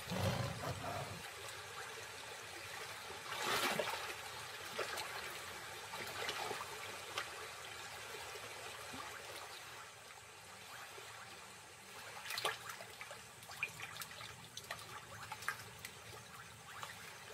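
Splashing and churning water with broadband rushing noise as lions wade through it, a few louder surges as something large moves through it.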